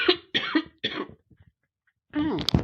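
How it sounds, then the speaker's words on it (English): Two or three short, sharp coughs sound close to a podcast microphone, then a brief throat-clearing burst follows a pause. No other sound is heard. "I'm going to cough, so hold on"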